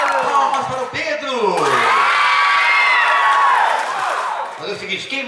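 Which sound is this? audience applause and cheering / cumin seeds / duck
audience applause and cheering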